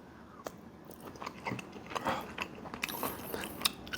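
Someone bites into and chews an IHOP sausage link up close. Wet, squishy mouth sounds and small crunches come in an irregular rhythm, loud and near, with no talking.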